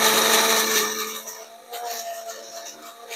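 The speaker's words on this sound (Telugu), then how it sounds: "నేను 1/2 కిలో క్యారెట్ సన్నగా ముక్కలు కట్ చేసుకొని మిక్సీ వేసుకుంటున్నానండి" Mixer grinder whirring through finely chopped carrots, a loud close motor whine that eases and then steadies as the blades run, with no talk.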